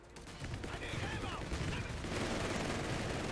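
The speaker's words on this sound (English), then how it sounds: "MG, oh. Going to open up and suppress two rifles here." Sustained gunfire in a Company of Heroes 3 battle, a dense, loud, continuous clatter of machine gun bursts with rapid crackling over a rumbling background, with a voice faintly present underneath.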